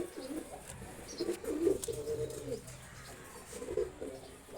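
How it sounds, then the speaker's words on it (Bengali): Soft, low coos from racing pigeons come in a couple of short bursts, fairly faint, against a quiet background. "তিনটা কবুতরই দেখেন রেসার কবুতর"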